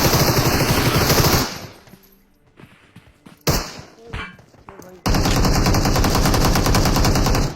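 Rapid automatic gunfire in a battle royale shooter game, with a sniper rifle and an S686 shotgun in play, bursts loud and close, stopping for a few seconds of scattered thuds before resuming in a dense sustained volley.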